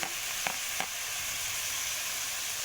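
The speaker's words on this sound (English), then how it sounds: "Now I am stirring the keema and I am going to add all my spices one by one" Minced keema sizzling and being stirred in a pan, a steady broadband frying hiss throughout with a couple of soft scraping stir strokes near the start, close and even.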